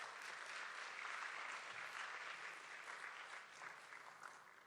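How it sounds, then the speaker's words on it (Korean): A church congregation applauds steadily for about five seconds, welcoming the pastor to the pulpit at a Sunday service at a school campus; the clapping stays fairly even and moderate, fading slightly toward the end. "목사님 모실 때에 뜨거운 박수 부탁드리겠습니다"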